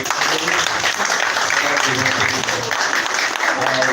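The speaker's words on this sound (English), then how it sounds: "Please another hand of applause." An audience at a summit conference breaks into loud, sustained applause, a dense wash of many hands clapping that holds steady from start to finish, with a few faint voices mixed in.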